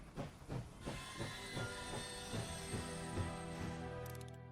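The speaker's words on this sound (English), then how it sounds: "Train is stopping." A steam train in the war strategy survival game Last Train Home, with a steady rhythmic chuffing that slows and eases under constant hiss, ending in a brief high whistle-like burst.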